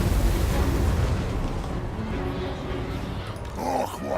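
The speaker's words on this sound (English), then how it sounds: "Let's cast an explosion." A magical explosion spell detonates in the battle game Total War: Warhammer 2, a deep rumbling blast that fades over a few seconds amid distant battlefield clamor.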